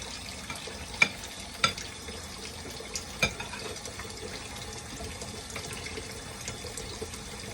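A spoon scrapes and presses through a thick mix of oatmeal, peanut butter and apple butter, giving soft, faint squelching with a few sharper taps of metal against the bowl, no talking.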